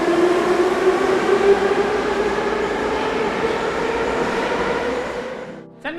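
Miniature model metro trains run steadily on a home layout in Alwarpet, Chennai, built by a retired engineer, giving a continuous close mechanical whir and hum that fades and stops near the end.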